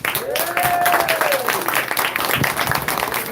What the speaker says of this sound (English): That was a round of applause for the judges, the Simba brothers and Mr. Rojas.